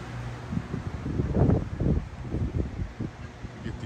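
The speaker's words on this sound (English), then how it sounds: "these huge gusts every once in a while" Strong hurricane wind gusts of about 30 to 35 mph on the Florida Nature Coast as Hurricane Idalia comes ashore, a steady buffeting rush with louder surges in the middle, blowing close against the microphone.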